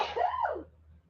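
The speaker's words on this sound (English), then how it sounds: "I have to sneeze" A single short sneeze bursts out close to the microphone, a sharp breathy blast that quickly tails off into quiet.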